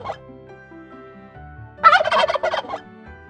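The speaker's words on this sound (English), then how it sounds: "Turkey. Turkey." A turkey gobbles in a rapid, loud burst of rattling calls, heard close and alone after a quiet stretch with a faint background hum.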